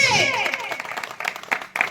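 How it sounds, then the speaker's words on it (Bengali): Audience applause at a small prize-giving gathering, a dense burst of clapping at the start that thins into scattered claps, with speech and other voices over it. "তো সবাই একটু হাততালি দেবে"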